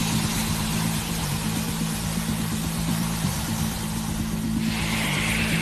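An IAE V2500 aircraft jet engine running during an engine wash gives a loud, steady roar throughout with a low hum, and a hissing rush of water rises near the end.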